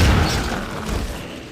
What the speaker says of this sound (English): the explosions when you start launching barrels of propane tanks with the gravity gun